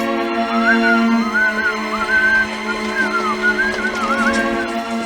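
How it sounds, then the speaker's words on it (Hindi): A young man whistles a casual, wavering tune in short phrases over a steady droning hum, close and clear. "तू सीटी बजा रहा है"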